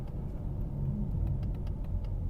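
A 2021 Ford Mustang EcoBoost cruises at 50 km/h in sixth gear, its engine a low, steady rumble heard from inside the cabin, with faint clicks on top and no voices.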